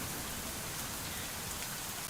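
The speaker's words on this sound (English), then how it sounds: "the rain continues to bear down on us" Heavy rain pours down steadily during a storm, a dense, even hiss of drops beating on surfaces that holds at one level for the whole stretch with no breaks.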